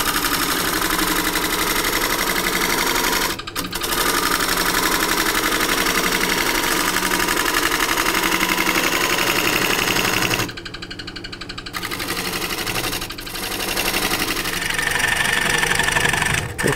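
Osage orange bowl spinning on a wood lathe while being flattened and hollowed at the center with a skew, a steady loud machine hum and cutting noise running throughout with two brief dips.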